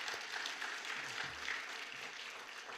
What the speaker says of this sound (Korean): 한번 축하하며 박수하겠습니다.